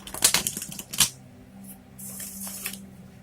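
A deck of tarot cards being shuffled by hand, quick close riffles and slaps in a few short bursts followed by softer sliding.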